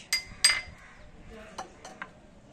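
Metal spoon scooping thick batter in a bowl, two sharp clinks against the rim followed by softer taps and light scraping, close and fairly quiet.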